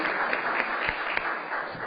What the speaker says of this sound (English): let's give the First Lady a round of applause